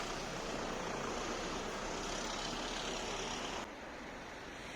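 A car passes on a street in Vilnius, heard as a broad, faint road hiss that holds steady and then drops off abruptly near the end.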